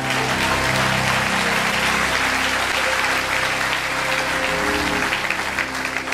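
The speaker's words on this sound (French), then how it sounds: "Acclame, acclame, acclame, acclame, acclame" A church congregation applauding: loud, continuous clapping from many hands that holds evenly throughout, with a faint low hum of voices or instruments beneath it.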